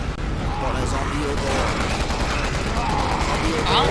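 Dense crackling bursts of rapid gunfire run continuously, automatic weapons in the video game Resident Evil 6, with a steady rumbling background throughout.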